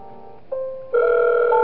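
Telephone ringing in the Five Nights at Wario's horror game, set in an indoor pool on night three: steady electronic ring tones that step up louder partway through, heard alone with no voices.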